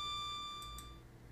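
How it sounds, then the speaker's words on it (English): A single electronic beep from the Ever 17 visual novel game, a clear steady tone lasting under a second before cutting off, with no talk. "Beep."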